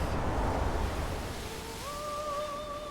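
Ocean waves from the video game Visions of Mana wash in a steady broadband surf, with a sustained, wavering sung tone rising in partway through and holding to the end.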